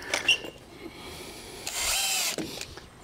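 A power drill drives screws into deck boards on a DIY backyard deck build, with brief whirring bursts near the start and one longer sustained run of the drill in the middle, close and moderately loud.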